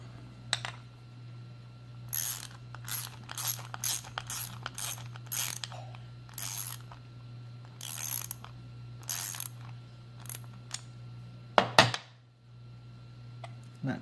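Bolts on the mounting plates of a MillRight Carve King CNC machine being snugged with a ratchet, giving repeated short clicking bursts over a steady low hum, with a louder clunk near the end.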